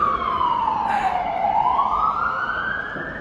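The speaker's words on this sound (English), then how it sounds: "oh, that's a big siren" A loud emergency siren wails close by, its pitch sweeping down then rising again in one long cycle.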